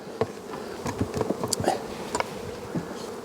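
Honey bees buzzing around hive colonies, close and uneven, with individual bees droning past amid soft tapping and handling noises.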